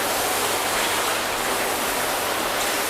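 Water rinses over car panels coated with Gyeon Can Coat, Meguiars Hybrid Coating and a Carpro product, a loud, steady hiss of spray running on without a break and with no voices.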